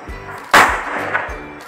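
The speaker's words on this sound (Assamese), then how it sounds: "এই ফটকাটো ফুটাই আচলতে ভাল লাগে দীপাৱলীত।" A single sharp firecracker bang bursts loudly during Diwali celebrations, preceded and followed by faint rhythmic rolling clatter in the background.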